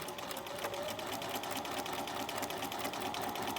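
A sewing machine stitches Wiscomb fabric in a steady, continuous run, close and fairly loud, with a fast even buzz of the needle throughout and no talking.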